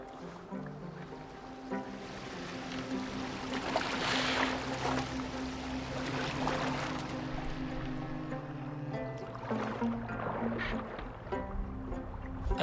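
A boat moves over water in the video game Assassin's Creed Valhalla, with continuous wash and splashing of waves under a low tonal music bed. It stays steady and moderately loud, with no voices heard.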